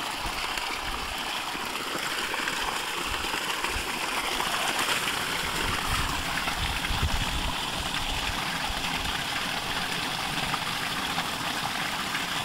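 Water gushing steadily from a borewell motor pipe on a farm, a continuous loud rushing stream with a low engine-like rumble beneath it, unbroken and alone throughout.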